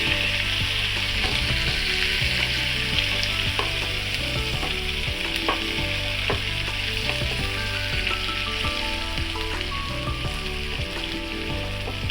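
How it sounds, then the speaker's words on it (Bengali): Chopped onions sizzle steadily in hot oil in a pan with already-fried dried red chillies and bay leaves, a close, continuous frying crackle with occasional stirring scrapes and no talk, for a fish roe masala. "পেঁয়াজগুলোকে ভালো করে ভেজে নিতে হবে।"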